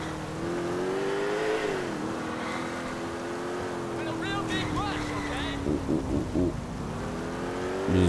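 A car in GTA IV drives along steadily, a sustained engine hum with small shifts in pitch, accompanied by traffic and wind noise.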